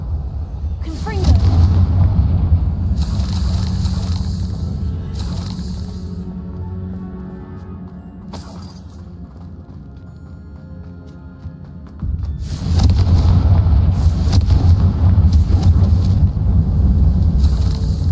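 Fiery Confringo spell blasts from the Hogwarts Legacy video game, loud booming bursts that rumble in two long stretches with a quieter gap between, while a person speaks over them.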